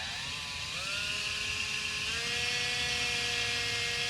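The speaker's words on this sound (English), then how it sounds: "then I'm just going to gently start up the drill" A cordless drill spins up gently and bores a hole in a workpiece, its motor whine rising in pitch in two stepped stages and then holding a steady tone under a broad hiss, close and continuous with no talking.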